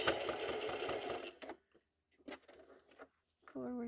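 Sewing machine back stitching through a junk journal, giving a fast mechanical whirr at first, then short bursts of stitching with gaps between them. A brief hum comes near the end.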